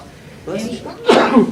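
During a school board meeting, one person sneezes sharply and close to the microphone after a soft lead-in breath or voice.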